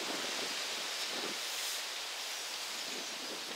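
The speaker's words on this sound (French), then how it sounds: "mais à part qu'il y a sacré vent" A steady roar of strong wind buffeting the microphone on a fishing outing, broad hissing rush throughout with faint gusty swells, no speech.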